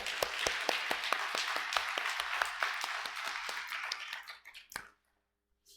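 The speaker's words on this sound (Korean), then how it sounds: "하나님께 영광의 박수 한번 올려드리겠습니다" A church congregation applauds together during a Sunday service, a steady run of fairly loud claps that thins out and stops abruptly near the end, leaving a short silence.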